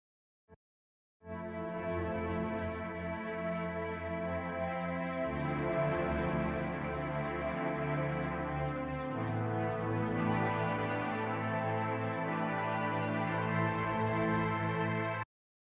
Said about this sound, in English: So I started with this Off-World Volume 2 preset. This is the Warm Swells preset there.